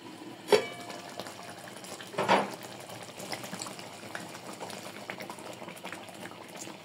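Katla fish curry simmering in a covered pot, a faint, steady bubbling with a couple of brief louder pops and clinks near the start.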